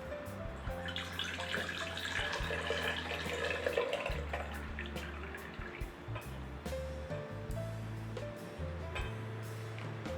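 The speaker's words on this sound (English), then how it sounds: "we will strain our tea with the help of a strainer" Brewed iced tea poured through a strainer, a steady trickling and splashing of liquid with a few low clunks, fairly quiet and close, without speech.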